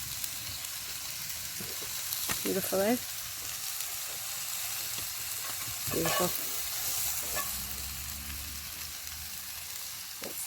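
Venison steaks sizzle steadily in a cast iron pan over a campfire, a soft, constant frying hiss heard up close, with someone talking briefly over it.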